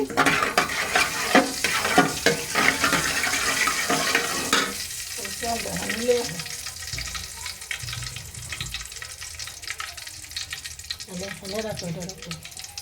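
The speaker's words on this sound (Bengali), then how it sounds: "আমি এখন তেল দিয়ে দিছি আর এখানে দারচিনি এলাচি দিছি তেজপাতা দিয়ে দিছি" Cinnamon, cardamom and bay leaves crackle and sizzle loudly in hot oil for several seconds, then settle into a softer, steady hiss with faint voices talking over it.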